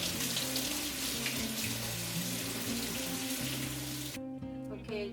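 Frozen shrimp, defrosted, rinsed under a running kitchen tap: a steady, close rush of water streaming into a sink for several seconds, the flow cutting off near the end.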